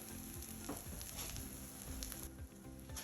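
Banana pancakes cooking in a frying pan after being flipped, a quiet, steady sizzle with light crackle and a brief dip near the end, no one speaking.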